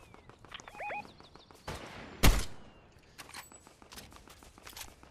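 A single sharp, loud gunshot cracks in Fortnite, standing out over quiet footsteps and faint game noises, with a softer burst of noise just before it.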